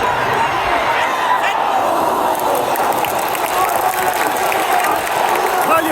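Football fans cheering a 91st-minute equaliser at the Irish Cup final between Dungannon Swifts and Crystal, a dense roar from a large crowd, continuous and loud, with voices shouting within it.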